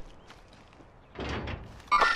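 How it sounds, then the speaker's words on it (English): A door opening in the shooter game Warzone, a short low thump followed by a brief scraping burst, fairly close and moderately loud amid quiet game ambience, with a sharp tonal blip just after. "someone opened the door"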